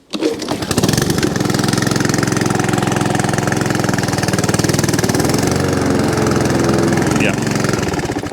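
Honda HRX 537 walk-behind lawn mower engine catching on the pull and running steadily at a loud, close idle for several seconds after starting.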